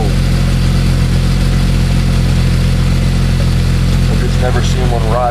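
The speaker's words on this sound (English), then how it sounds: "got a hole in the front of my muffler, and it blows the exhaust forward" A Jeep engine idles steadily with exhaust leaking from a muffler rotted through at the front, a loud continuous rumble throughout with a faint voice over it.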